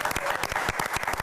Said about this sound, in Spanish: Fuerte el aplauso, es la Consuelo en nuestro programa.